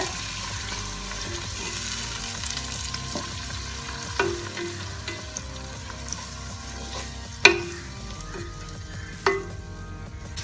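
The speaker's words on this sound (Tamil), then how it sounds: "அடுத்ததான் நம்ம தக்காளியை போட்டு இதையும் நல்லா வதக்கிக்கலாம்" Tomatoes sauté in a pan for a prawn and mushroom gravy with a steady soft sizzle, broken by occasional light scrapes and one sharp clack from a stirring utensil.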